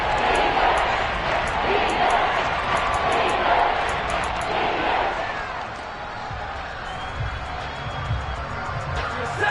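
A stadium crowd in the Madden football video game roars and cheers in a steady, loud swell that eases slightly toward the end, with a commentator talking over it.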